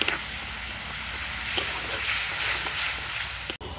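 Bright, steady sizzling as a little water goes into a spiced mixture frying in a pan for a paneer and bottle gourd dish, close and continuous, with faint clicks and a brief dropout near the end.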